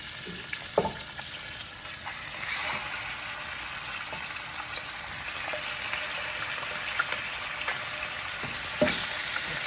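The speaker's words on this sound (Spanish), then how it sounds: "A fuego bajo. Para que suelte el sabor del pavo en el aceite." Turkey pieces fry in oil over low heat for Guanajuato-style mole ranchero, giving a soft, steady sizzle with occasional clinks and scrapes from stirring, heard up close.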